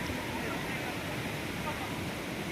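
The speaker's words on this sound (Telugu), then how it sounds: "ఇక్కడ ఒక వాటర్ ఫాల్స్ వస్తూ ఉంది" Steady, even rush of Kaigal waterfall, a soft continuous roar heard from some distance with no breaks.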